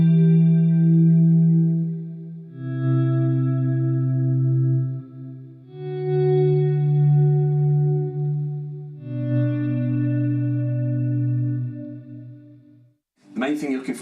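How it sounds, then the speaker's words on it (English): Sustained electric guitar swells wash through a Strymon Big Sky plate reverb with a high mix, four long chords blooming and overlapping alone, then a brief bright noise at the end. "The penultimate one, which is my reverb, which is my Strymon Big Sky. And the setting that I use for this is a preset that I've created, which is a plate reverb"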